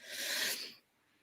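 A single sneeze from a person in a conversation, a sharp breathy burst that holds for about half a second before dropping off into near silence.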